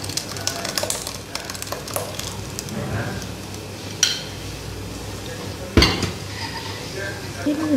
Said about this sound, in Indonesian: Kita aduk supaya airnya turun ke bawah ya.